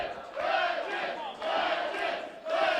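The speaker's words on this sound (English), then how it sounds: "Crowd chanting Legends" A wrestling crowd at a tag team match chants "Legends" in loud, rhythmic repeated surges of massed voices, each chant swelling and dipping in a steady pattern.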